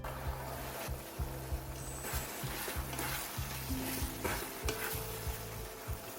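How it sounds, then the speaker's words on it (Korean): Steamed squid stir-fried in seasoning sauce over high heat, a constant close sizzle under rapid rhythmic scraping of a utensil against the pan, strokes repeating about twice a second. "강불로 올려서 양념이 뭉치는 부분 없게 1, 2분간 빠르게 볶습니다."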